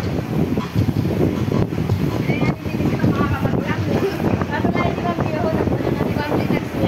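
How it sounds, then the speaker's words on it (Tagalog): Strong wind buffeting the microphone out at sea, a continuous loud rumbling roar with gusty swells, while people talk over it. "Sobrang hangin ang ano dito oh."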